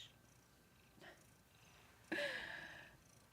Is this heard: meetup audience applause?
no